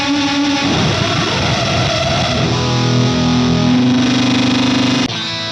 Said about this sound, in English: It uses the same distortion circuit from the breakbox, which is our favourite overdrive circuit